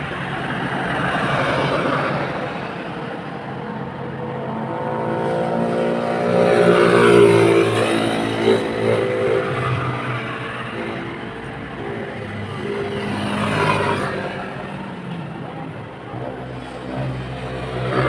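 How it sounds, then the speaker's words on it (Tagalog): A motor tricycle engine drones and revs unevenly for a long stretch, rising and falling in pitch close by with steady road noise beneath. "Hirap talaga ng tricycle ko po."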